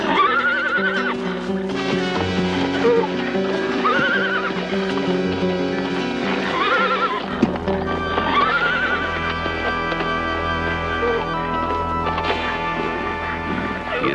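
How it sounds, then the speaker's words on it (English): A horse whinnies repeatedly in loud, shrill neighs over a sustained musical score, with hooves clopping beneath, heard close and dramatic with no speech. "He has a horse brought to him, knowing that to them, this is a beast of the most fearsome proportion."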